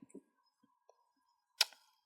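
Confetti cannon giving a single sharp pop after near silence, with a short crackling tail, loud against a quiet room.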